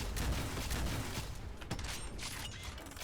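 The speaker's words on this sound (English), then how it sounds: "what the heck is he shooting at me?" Rapid gunfire in the Doom mod Project Brutality, a dense, continuous rattle of shots and mechanical clatter aimed at the player, loud and close with no voice over it.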